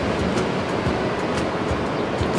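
Ocean waves break at a surf spot during typhoon swell, a loud, steady roar of surf and wash with wind noise buffeting the microphone, no talking.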